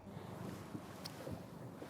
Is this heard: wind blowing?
yes